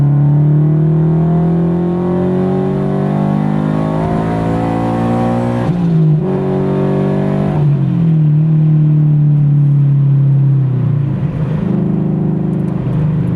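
Supercharged Subaru BRZ engine pulls hard through strong harmonic tones from 4,000 rpm in third gear, dips briefly around a gear change with a diverter valve blow-off, then climbs again, loud and close throughout.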